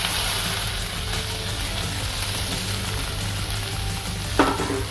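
Boiled banana stem and green chillies sizzling in oil with black cumin, a dense, loud, close crackling hiss that runs steadily throughout, with one brief clink near the end.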